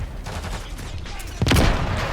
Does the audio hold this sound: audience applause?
no